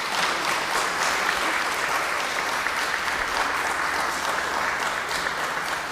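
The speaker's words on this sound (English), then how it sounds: "a little clap offering for these folks" Church congregation clapping together in a dense, steady round of applause for newly ordained and installed church leaders, filling the room evenly for several seconds with no talk over it.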